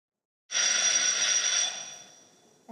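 A loud, bright bell rings once during a school quiz competition, striking sharply and then ringing out in a long, fading shimmer, with no talk.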